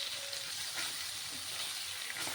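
Tilapia fish frying in hot oil in a pan, a steady soft sizzle and hiss that runs throughout at low level, with no voices.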